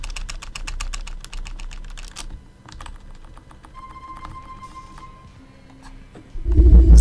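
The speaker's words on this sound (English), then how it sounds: "Is the keyboard really that loud?" Rapid computer keyboard typing clatters up close in dense bursts of keystrokes, thinning to scattered taps before a louder thump at the end.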